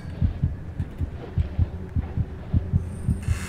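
A heartbeat thumps in the horror video game Among The Sleep, a loud, low double-pulse repeating at a steady, fairly quick rhythm over a dull ambient hum, with no speech.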